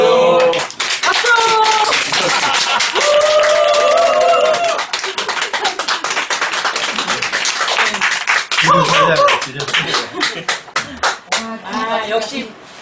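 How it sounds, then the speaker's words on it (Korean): A crowd claps in a dense burst of applause, mixed with cheering and excited voices, then thins into scattered claps and chatter. "박수!"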